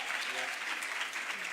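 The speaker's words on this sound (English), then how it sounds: "a round of applause again for that" Dense audience applause fills a short stretch at a youth event, steady and close with no gaps between claps.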